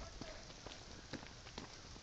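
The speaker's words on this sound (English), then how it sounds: "Raining a bit." Light rain falls steadily as a soft, close patter with scattered drop taps, faint and continuous with no talk over it.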